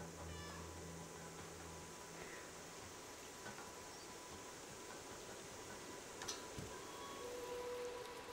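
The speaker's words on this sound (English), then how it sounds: "I can meow. Look at my meows. My meows are amazing." A cat character meowing in the video game Stray, faint and intermittent over a steady hiss of background noise, with a few brief high cries standing out.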